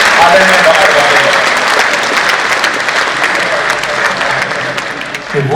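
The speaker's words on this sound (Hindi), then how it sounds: "जोरदार तालियों के साथ स्वागत कीजिए आदरणीय डॉक्टर।" Loud, continuous applause from a large audience welcoming a poet to the stage at a kavi sammelan and mushaira, dense clapping holding steady before easing slightly at the end.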